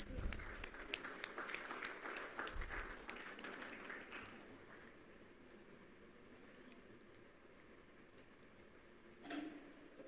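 Applause from a conference audience at a rare diseases summit, scattered sharp claps in the first few seconds that thin and fade into quiet hall ambience.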